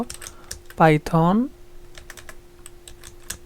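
Computer keyboard keys tapped while a Python command is entered, light scattered clicks throughout, with a short burst of voiced sound partway through.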